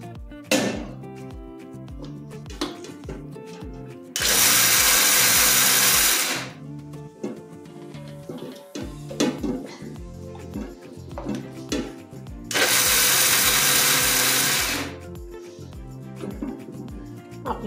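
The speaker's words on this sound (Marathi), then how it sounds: "तीळ शेंगदाणा जरा मिक्सरला लावून घेते" Mixer grinder grinding peanuts and sesame seeds runs in two loud whirring bursts of about two seconds each, with kitchen clatter and handling sounds between them.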